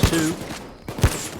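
Silenced shotgun in the video game Payday 2: two muffled, punchy shots about a second apart, close and fairly loud.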